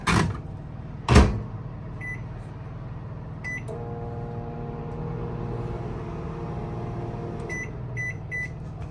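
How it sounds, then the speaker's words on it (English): A microwave oven in an RV camper hums steadily with a low drone, a couple of door clunks at the start and a few short beeps later. "We have power on the microwave now."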